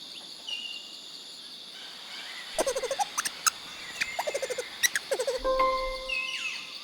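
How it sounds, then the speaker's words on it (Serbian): A lemur gives a series of short, high chirping and squeaking calls in quick bursts, heard alone against a quiet jungle-like background. "Kakav zvuk lemur proizvodi?"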